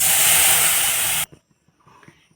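Milk poured into a pan of fried vermicelli gives a loud, close burst of hissing sizzle that cuts off abruptly, followed by faint clinks and soft stirring sounds.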